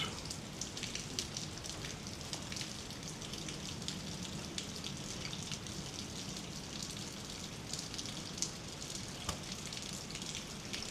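Rain patters continuously and evenly, a soft hiss of drops with a few sharper taps standing out, no talking over it.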